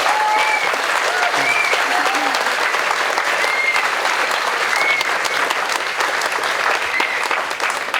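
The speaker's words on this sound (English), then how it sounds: "So a round of applause to the Totnes Pride Action Group" A crowd applauds the Totnes Pride Action Group at an outdoor Pride event in Totnes, Devon, in 2018. The clapping is sustained and even, with a few faint tonal chirps above it.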